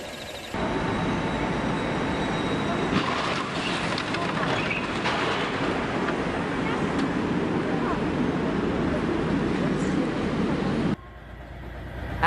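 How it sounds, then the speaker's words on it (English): A speeding train at night roars past after striking a car on the tracks, a loud sustained rumble and rush that holds steady for about ten seconds before cutting off abruptly. "A speeding train smashes into a car that unknowingly drives onto the tracks at night."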